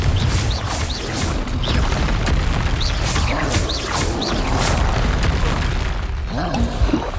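Confringo spell blasts in the Hogwarts Legacy video game, set on hard mode, produce loud repeated booms and crashes amid a dense, continuous roar of combat noise.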